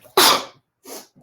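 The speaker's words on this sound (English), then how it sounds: "I'm going to sneeze." A single loud, close sneeze with a sharp burst of breath, followed by a quieter second exhale and a faint trailing sound.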